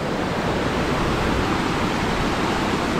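Na Ella waterfall in the Knuckles range of Sri Lanka pours down in a steady, dense, loud rushing roar with no pauses and no voices.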